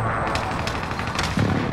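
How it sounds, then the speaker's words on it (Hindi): Rapid bursts of gunfire from an online shooter game rattle in quick succession over a short stretch, crackling and fairly loud with no voices over them. "गोलियां चल रही है कहां से"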